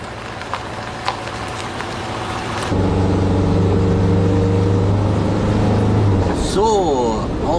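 A car starting off and pulling away at sunrise, its engine rising into a steady close drone after a few quiet seconds, then fading with a whine as it settles into motion.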